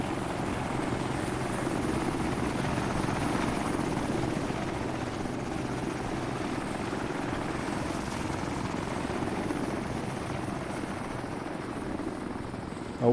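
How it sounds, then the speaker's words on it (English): A helicopter in Arma 3 drops infantry, its rotor giving a steady droning whir at moderate distance for the whole stretch, with no voices. "Okay, helicopter taking good care, look, dropping a load more infantry in."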